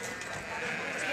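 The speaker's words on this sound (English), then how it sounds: "Jack and Tommy are left to deal with the sheep on their own" Sheep being handled and driven during shearing work bleat and scramble in a noisy, dense clamour, with people talking over the flock throughout.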